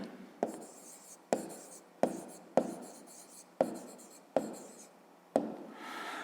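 Pen writing on paper in close, quiet strokes, seven distinct scratchy bursts each starting with a light tap and trailing off, evenly spaced with no talking.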